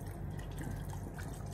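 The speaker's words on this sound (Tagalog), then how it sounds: "Lagyan na natin yung tubig. Tubig galing sa nawasa." Tap water is poured into a cooking pot of boiling chicken tinola, a soft steady splashing and trickle up close, fairly quiet and continuous.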